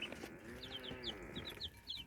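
Backyard chickens and chicks cluck and chirp in a busy, overlapping chorus, with a few sharp higher peeps standing out, fairly close and moderately loud, with no talking.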